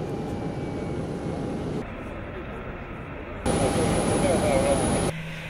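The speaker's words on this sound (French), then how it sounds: "La nuit tombée, l'avion présidentiel se pose sur le tarmac." The presidential airplane lands on the tarmac at night in Katanga with a steady, loud jet roar. The roar drops briefly and then swells again.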